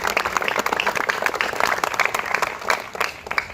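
Applause at a SWAT acceptance night: a crowd claps in uneven bursts that swell and thin out, with a few voices talking faintly underneath.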